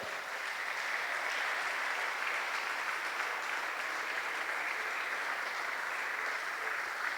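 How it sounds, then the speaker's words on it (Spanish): A church congregation applauds steadily, a continuous even wash of many hands clapping at moderate distance, with no voices standing out. "Dale un fuerte aplauso a Dios"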